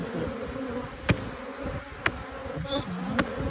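Honeybees at hives during a late-season honey harvest hum in a steady, close, continuous drone, with a few sharp clicks and taps breaking through now and then.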